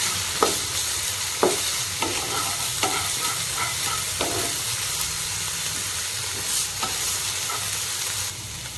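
Ginger-garlic paste and onions fry in a pan for a raw banana curry, a loud steady sizzle punctuated by regular sharp scrapes of a spoon stirring, close and unaccompanied by speech.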